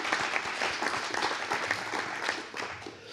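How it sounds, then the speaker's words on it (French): Steady applause from an audience at a round-table talk, dense clapping that fills the whole stretch and eases off slightly at the end. "On peut effectivement applaudir Daniel pour ça."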